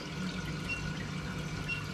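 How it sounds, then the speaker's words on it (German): Aquarium water rumbling back into an overflow channel during a water change, heard as a steady, close, continuous rushing wash with no pauses. "Und das Wasser, man hört es schon, es poltert jetzt zurück."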